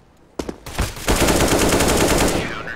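Rapid AK rifle gunfire in the video game CS:GO, a couple of sharp single shots followed by a sustained burst of automatic fire, loud and close, with no talking over it.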